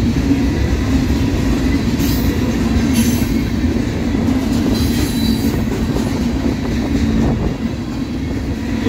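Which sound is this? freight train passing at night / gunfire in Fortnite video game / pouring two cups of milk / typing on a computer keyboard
freight train passing at night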